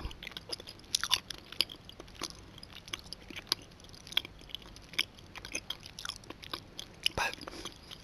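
Gum chewed very close up, with soft wet smacks and sticky clicks in an irregular rhythm, quiet and intimate with no talking.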